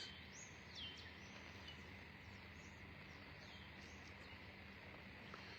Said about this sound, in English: Just listen to the birds with me for a moment.